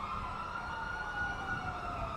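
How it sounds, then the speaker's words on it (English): Emergency sirens wail steadily in the GTA V video game, sustained and fairly loud with a constant road-traffic rumble beneath, heard alone without talk. "damn these fucking sirens, man."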